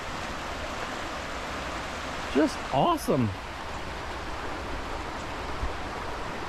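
A creek in the Quinault Rain Forest flows with a steady, even rushing wash at moderate distance, and a person speaks briefly over it.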